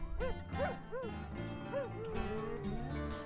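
A dog howling on an album, a string of rising and falling whimpering howls over guitar and piano music.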